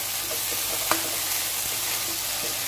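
Spring onion greens are stirred into chilli chicken in a hot pan, a steady close sizzle with a few light scrapes and one clear tap of the spoon.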